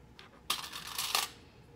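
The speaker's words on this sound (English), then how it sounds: "Okay, so I just need to clip along here." Scissors snip through the fabric seam allowance of a basic tee during sewing, giving a short burst of crisp cutting sounds at close range with no talk.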